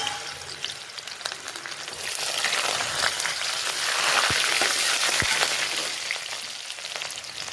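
Green chilies, garlic and ginger sizzle steadily in hot oil over a low flame for egg bhurji, a bright continuous fry with a couple of soft utensil taps partway through.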